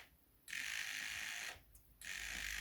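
A small wheeled Pi robot drives straight forward, its motors giving a steady high mechanical whir that starts abruptly, cuts out briefly mid-way, then resumes; close and fairly loud with no talking.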